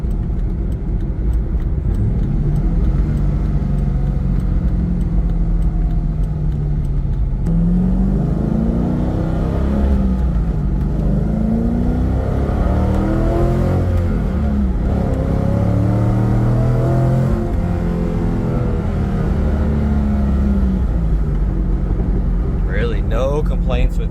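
A modded 2004 Chevrolet Corvette Z06 hardtop with a roll cage pulls hard while driving, its V8 drone rising and falling through gears in a steady loud cabin roar, with someone talking over it.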